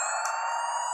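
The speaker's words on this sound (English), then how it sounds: "I hear an ambulance come down Washington Road" A loud, steady ambulance siren wail fills the whole moment, its high tones holding constant without a break.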